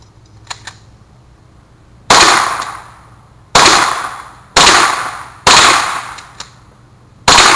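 Rifle shots fired outdoors, five loud sharp cracks spaced about one to two seconds apart, each with a decaying echo tail, close by with no talk.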